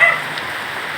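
Steady rain falls outdoors over a yard, a dense continuous hiss with a slightly louder start, with no voices.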